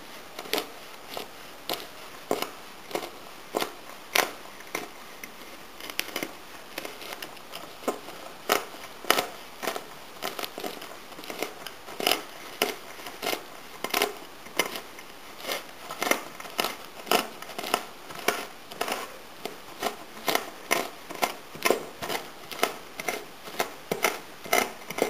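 Dried split peas being crushed to break the grains, heard as a steady series of sharp, crisp cracks and crunches repeating at a brisk, even rhythm, close and clear with no talk.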